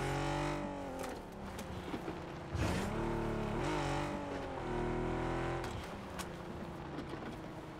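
A car driving in PUBG, its engine droning steadily with rising and falling pitch as it accelerates and shifts, close and continuous throughout.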